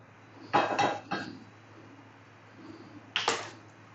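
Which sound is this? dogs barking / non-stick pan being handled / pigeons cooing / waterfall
non-stick pan being handled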